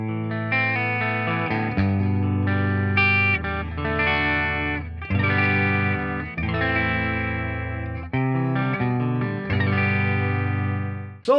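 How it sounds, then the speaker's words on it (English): Clean electric guitar tone picked note by note, sustained chords and single notes ringing out with clear attacks and decays, played alone up close before fuzz pedals are tried. "let's go ahead and get some clean tones out of the way,"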